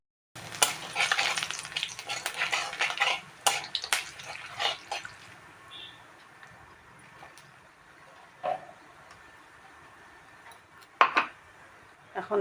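Whole cumin, cinnamon, dried chilli and bay leaf hit hot oil for a kofta curry. A burst of crackling sizzle and pan clatter comes first, then it settles into a quieter fry with occasional utensil knocks.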